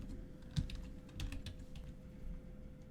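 Soft computer mouse clicks during SketchUp setup, a few quiet separate taps spread across a short stretch against faint room hum.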